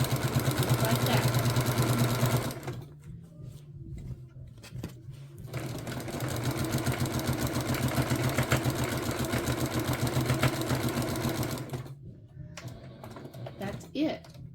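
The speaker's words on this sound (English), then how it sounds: "Line this back up. And continue sewing." A sewing machine stitching a quilted Christmas table runner, a fast mechanical whirring hum in long runs, paused twice for a few seconds, close by, with someone speaking in between.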